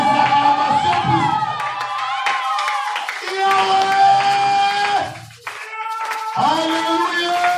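During a French-language church service, a congregation claps rhythmically while voices call out acclamations and sing, the shouts and sustained vocal tones loud and close over the steady hand claps.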